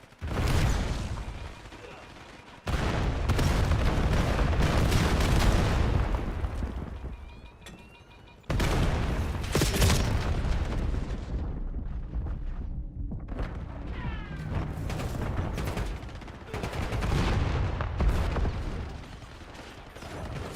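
Gunfire and explosions in the Call of Duty Black Ops 7 video game, dense loud bursts of shooting with booming blasts and brief lulls between them, with voices heard among the battle noise.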